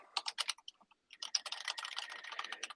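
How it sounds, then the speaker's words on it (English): Rapid typing on a computer keyboard, heard up close: a quick burst of keystrokes, a short pause, then a longer, steady flurry of clicking keys. "What are you furiously typing up?"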